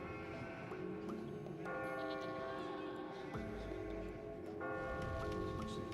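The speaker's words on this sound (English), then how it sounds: "Here, it's the bell." A bell rings inside the video game Catherine, its tones layered over steady game music and background ambience, recurring a few times across the stretch at moderate loudness.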